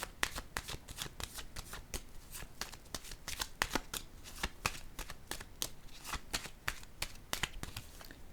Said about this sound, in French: je vais déposer une carte sur le féminin à l'envers